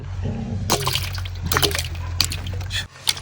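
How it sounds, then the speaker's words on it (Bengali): Potatoes are washed in water while cooking outdoors in a forest, with close sloshing, splashing and clattering as they are rubbed and moved about in a bowl, heard in several bursts. "আলুটা আমরা ধুয়ে নিচ্ছি ফ্রেশ করে।"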